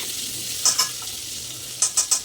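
Whole spices for tempering sizzle and fry in homemade ghee, a steady crackling hiss with a few sharp bursts as they are stirred in the pan, close up with no voices.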